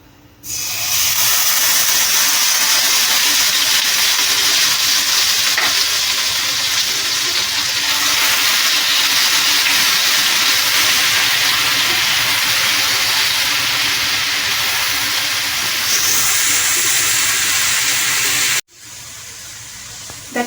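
Ground onion paste hits hot oil in a pan for a green hariyali parshe fish dish, setting off a loud, continuous close-up hiss and sizzle that lasts nearly twenty seconds before cutting off abruptly.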